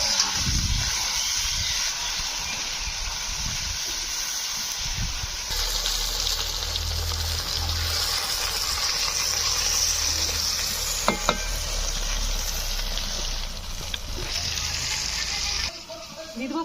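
Chopped tomatoes go into browned onions frying in a pan for a rustic village-style chicken curry, making a dense, continuous sizzle and bubbling hiss that swells partway through, with a brief clatter near the end.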